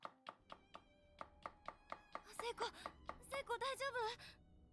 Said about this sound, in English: What's that chopping sound?